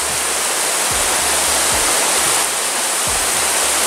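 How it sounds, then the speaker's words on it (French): Waterfalls near the Rocher des Druides roar as loud, steady broadband rushing, close and constant, with occasional low thumps of wind buffeting underneath and no voices. "comme vous pouvez le voir derrière moi, jusqu'au rocher des druides, c'est rempli de cascades."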